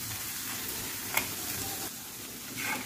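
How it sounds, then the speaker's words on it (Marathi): Ground coconut frying with onions in a pan for an egg masala, a soft, steady sizzle with a light stirring scrape and a brief clink near the middle. "खोबरं पण आपण कांद्यासोबत मस्त फ्राय करून घेऊ"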